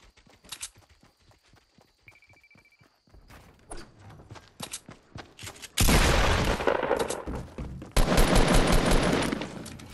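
Automatic gunfire in the Fortnite video game, sprayed in long loud continuous bursts after a stretch of scattered single shots and footsteps, filling the latter half.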